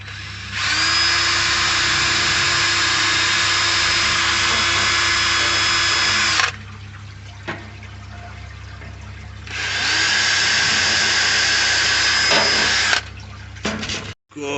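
A power drill bores holes for bolts in two long, loud, steady whining runs separated by a quieter gap with small knocks, ending in a few short clunks.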